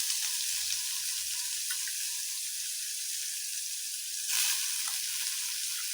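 Finely chopped onions fry in a pan with a steady, even sizzle that carries on without a break. A few soft clinks and stirring sounds come over the top, with a brief louder burst near the end.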